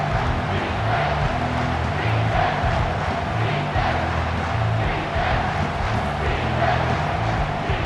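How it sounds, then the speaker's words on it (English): Stadium crowd roaring in EA Sports College Football 25, a dense steady wall of cheering with swelling surges, loud and continuous throughout with no clear talk. "This crowd is tearing the lid off this place."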